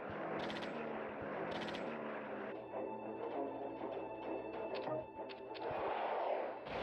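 Missile strikes, nuclear blasts and bombing in the strategy game World Conqueror 3 come as rapid bursts of gunfire-like explosions and rattling impacts over a droning background, loud and continuous, with no talk.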